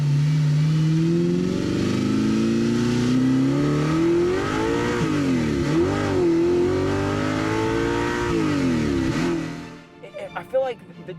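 Audi R8 Type 42 with a six-speed gated manual, engine revving hard through the exhaust, pitch climbing and dipping through shifts before cutting off near the end, heard from inside the car with a voice over it.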